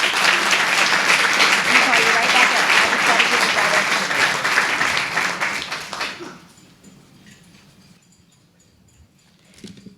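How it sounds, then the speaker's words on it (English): A large indoor audience at a Tiger Bay club legislative update gives sustained, dense applause for Congressman Vern Buchanan, loud and steady for about six seconds before fading out to near quiet with a few scattered claps near the end. "Please give our congressman another round of applause, please."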